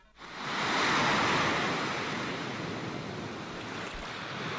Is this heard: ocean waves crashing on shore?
yes